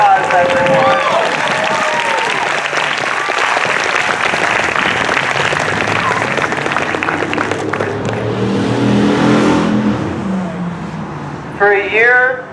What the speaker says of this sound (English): Give our farmers, our teachers, a round of applause, everyone.